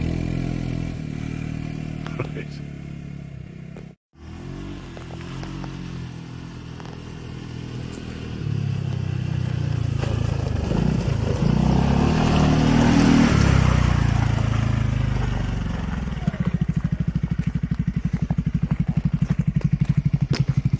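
A Segway Snarler AT6 SX ATV engine revs while being driven, a steady mid-pitched drone that drops out briefly, then climbs into a louder, rising rev and holds a throbbing idle near the end.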